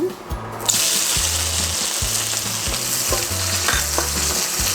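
Onion hits hot annatto oil and bursts into a loud, close sizzle that continues steadily, with rhythmic low knocks and scrapes of stirring underneath.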